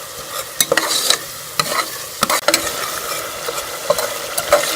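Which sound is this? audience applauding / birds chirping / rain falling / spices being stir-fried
spices being stir-fried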